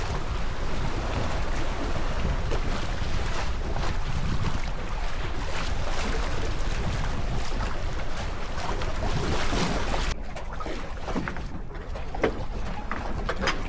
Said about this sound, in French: Enfin le vent est revenu, c'est pas violent non plus.